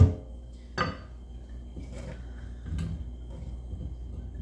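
Cut okra pieces are dumped into a bowl in a home kitchen, giving one sharp clattering thud followed by a couple of softer knocks and rustles, close and fairly quiet.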